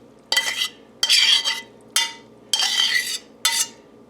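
Leftover spaghetti noodles dropped in five separate wet, clattering bursts over the top of a pasta bake, each lasting about half a second and close by, with short quiet gaps between them.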